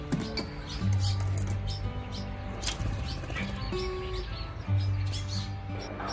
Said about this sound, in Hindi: शाम की चाय, हाउस बोट का ये लेक का नज़ारा और चिड़ियों की चहचहाहट,